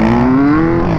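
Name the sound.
motocross dirt bike engine revving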